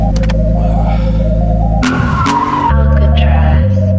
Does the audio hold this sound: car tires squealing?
yes